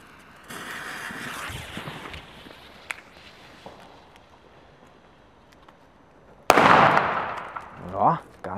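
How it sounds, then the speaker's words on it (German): A Weco Super Böller 2 firecracker explodes outdoors in a single loud, sharp blast that decays over a second or two, with quieter rustling and a faint pop earlier. "Wir fangen an mit dem Super Böller 2 von Weco."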